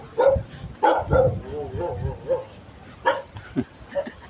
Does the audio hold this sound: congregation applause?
no